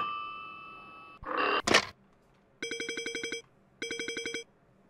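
Telephone bell ringing in two rapid trilling bursts, loud and close, preceded by a couple of short clattering knocks and a fading tone, with no voices.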